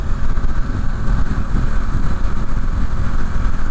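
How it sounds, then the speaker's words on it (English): Steady engine rumble of a motorcycle cruising north on Lakeshore Drive in Chicago, loud and continuous with broadband road and wind noise, no voices. "riding my motorcycle north on Lakeshore Drive"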